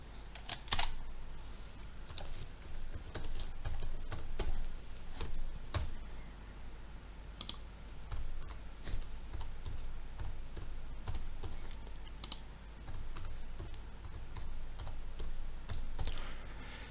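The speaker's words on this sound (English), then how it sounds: "And now we have to type our name, a name for our PC, and a name for our user." Someone types on a computer keyboard while installing Ubuntu, an uneven run of quiet key clicks with short pauses continuing throughout, close by and with no speech.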